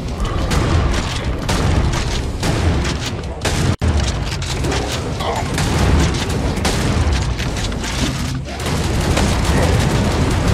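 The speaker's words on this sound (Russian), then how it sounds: "взорвались они действительно неплохо" Loud, continuous barrage of booming explosions and crackling blasts from the video game Hellbound, dense and overlapping throughout, with a brief drop to near silence partway through.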